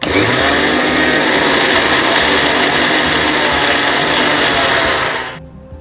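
A mixer grinder grinds sesame seeds and jaggery for laddu with a loud, steady, high-pitched whirring drone that runs for about five seconds, then abruptly winds down and stops.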